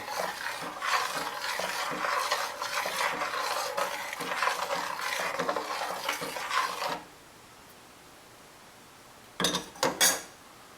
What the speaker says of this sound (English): See how it's going, give it a stir, obviously.